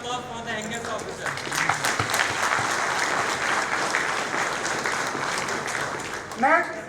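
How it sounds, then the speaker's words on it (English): A crowd applauds at a convocation ceremony for forest range officer trainees, steady dense clapping that swells and holds for several seconds, with a voice speaking over it at the start and end. "a big applause for the youngest officer"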